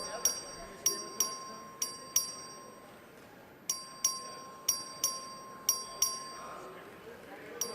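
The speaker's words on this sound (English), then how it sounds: "Clerk will ring the bell." A clerk rings the vote bell on the Texas House floor: two quick series of sharp metallic dings, about five or six strikes each, separated by a brief pause, over a steady electronic tone and faint chamber murmur.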